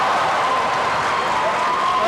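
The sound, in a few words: basketball crowd giving a standing ovation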